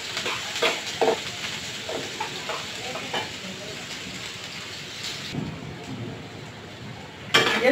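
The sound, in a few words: onions frying in oil in a pan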